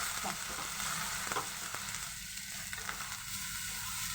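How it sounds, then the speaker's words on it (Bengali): Soybean paste frying in a pan with Kashmiri chilli powder, turmeric and a little sugar, stirred steadily: a continuous close sizzle with soft scraping strokes of a spoon running through it, no voices. "মিক্স করবো নাড়াচাড়া করে নেব ভালোভাবে"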